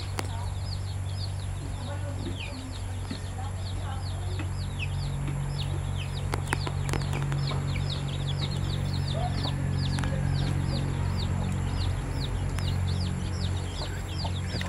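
Chickens cluck and call repeatedly throughout, steady and fairly close, over a constant low hum, with a voice speaking briefly.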